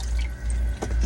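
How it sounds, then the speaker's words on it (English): Tap water running into a container being filled with fresh water for washing collard greens, a steady close splashing flow with a low rumble and a few sharper drips. "So I'm filling this back up with fresh water."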